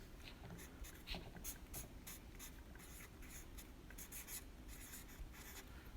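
A pen scratches out boxes on paper in quick, uneven strokes, quiet and close, with short bursts of scribbling repeating throughout.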